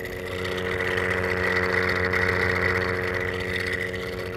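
A 3D-printed replica of a Chrysler air raid siren, its motor idling with a steady, slightly growling hum that holds evenly at moderate volume, heard alone and close up.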